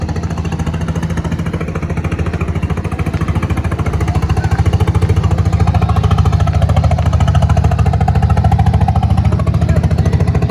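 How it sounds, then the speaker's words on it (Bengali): A loud, steady motor boat engine chugs continuously at a boat landing, rising slightly in volume partway through as it approaches, with no speech. "ওই যে একটা নৌকা, একটা নৌকা আসতেছে।"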